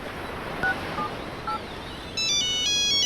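A mobile phone signals an incoming call. A few brief dial-style tones sound first, then a loud electronic ringtone melody of rapid stepping notes plays close by.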